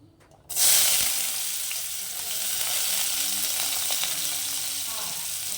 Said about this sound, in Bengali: সবজিগুলোকে ওই একই তেলের মধ্যে আমি ভেজে নেব প্রথমেই দিয়ে দিচ্ছি গাজর